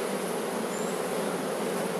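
Honeybees inside a healthy hive in a sunny, sheltered orchard, a dense steady buzzing drone that fills the whole moment, close and loud with no voices.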